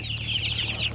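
Chicks offered for sale at a poultry market cluck and cheep continuously in a dense, bright chorus. A low steady hum runs underneath, and no one speaks.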